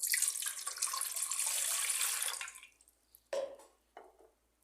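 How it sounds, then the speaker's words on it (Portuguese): Water, half a litre, runs steadily into a cooking pot for a couple of seconds, a broad splashing pour, then stops, followed by a few short clinks and splashes. "Agora eu vou colocar na panela meio litro de água."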